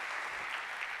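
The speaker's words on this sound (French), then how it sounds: "Bienvenue Jonathan, un tonnerre d'applaudissements" Audience applause welcomes a speaker onto the stage at a tech conference talk, a steady, dense clapping that fills the whole short moment without any voices.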